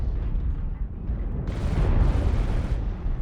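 Airstrike explosions in MechWarrior Online, heard as a dense, continuous rumbling barrage of blasts. The rumble swells sharply halfway through and stays loud to the end, with no talking over it.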